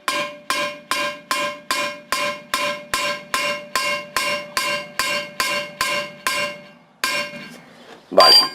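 Steady, evenly spaced metallic hammer blows ring out about fourteen times in a row as a rivet is hammered, then a short pause before one final louder strike.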